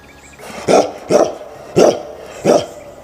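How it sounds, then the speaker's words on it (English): A dog barks four times in an evenly spaced series, each bark loud and close, with quiet room tone between them. "D for dog."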